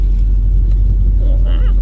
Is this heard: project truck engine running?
yes